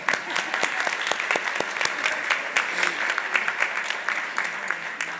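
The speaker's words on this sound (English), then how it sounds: "One more round of applause." Audience at an administrative service awards ceremony claps in a sustained round, individual sharp hand claps standing out near the microphone against a dense crowd of clapping that continues evenly throughout.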